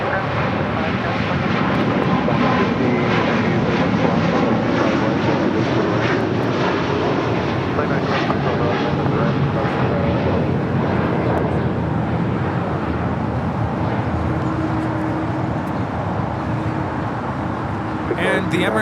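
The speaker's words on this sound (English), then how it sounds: "the Emirates A380 now rolling on 25 left" An Emirates Airbus A380 rolls for takeoff on runway 25 left at LAX, a loud, steady jet roar heard from a distance that holds for the whole stretch, with voices talking over it.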